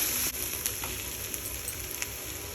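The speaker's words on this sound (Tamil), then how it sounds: "அது கூடவே இஞ்சி பூண்டையும் ஆட் பண்ணிடலாங்க. வெங்காயம் நல்லா வதங்கணுங்க." Onions with ginger and garlic frying in a pan for paneer butter masala, giving a steady close sizzle with faint crackles and occasional small pops throughout, no voices.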